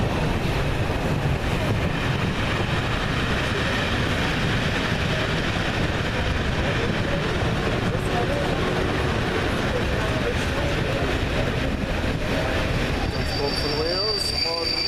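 A Merseyrail electric train unit passes just behind the spot, heard as a steady, fairly loud broadband rumble and rush that holds constant throughout, with some outdoor wind noise.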